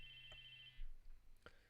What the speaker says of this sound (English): Oh, Taku, your phone's ringing.